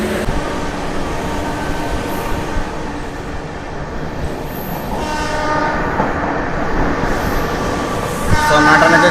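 An Amrit Bharat Express train hauled by a WP5 locomotive rolls past loudly, with a continuous heavy rumble of wagons and rail clatter, and a horn blast rises near the end.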